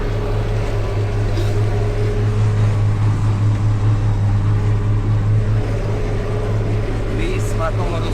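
Tractor cab while baling hay, PTO running at 950 rpm with the air conditioning on: a loud, steady low engine drone that fills the whole stretch without letup.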